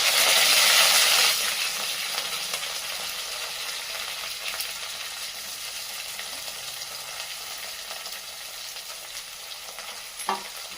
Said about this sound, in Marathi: परतून घ्यायचा आहे।